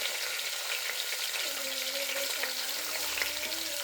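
Cumin seeds and chopped onion frying in a pan for kichidi, a soft steady sizzle with a faint tonal whine in the background.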